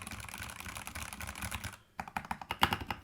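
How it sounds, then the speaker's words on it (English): Rapid typing on a Skyloong GK75 keyboard with optical switches and PBT keycaps, a dense run of close, crisp clacks, then a short pause and a sharper burst of distinct keystrokes, with no voice. "The PBT keycaps sound really good as well."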